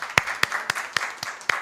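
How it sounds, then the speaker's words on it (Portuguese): Audience applause at an education committee session in Rio Grande do Sul, heard as six sharp evenly spaced claps about a quarter second apart, moderately loud with no talk over them. "Uma salva de palmas"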